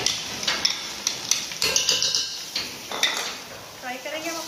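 Onions tipped into mutton tripe frying in a pan, a run of sharp clinks and scrapes of a spoon against metal over a light sizzle, close and busy throughout.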